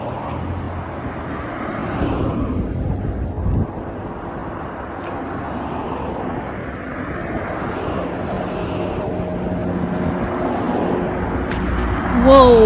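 A BMW motorcycle engine drones steadily and powerfully on a road in Japan, with a broad continuous rumble mixed with wind buffeting, swelling slightly louder near the end.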